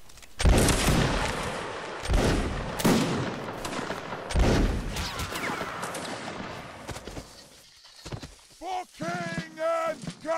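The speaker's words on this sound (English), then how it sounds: "the shooting is superb tonight" Musket volleys crack out in a Napoleonic Wars line-battle video game, several loud broadband blasts in the first half with rolling echo, followed by voices talking.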